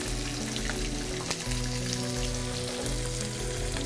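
Cumin, garlic cloves and green chillies frying in tempering oil for a vaakkaaya pappu, a loud continuous close sizzle with crackling spatter, accompanied by a low steady hum and no speech.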